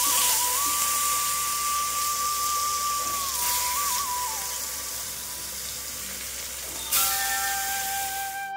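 Fish rubbed with salt and turmeric fries in hot oil in a pan, giving a steady, loud sizzling hiss throughout with a thin whistling tone riding over it, close by and without talk.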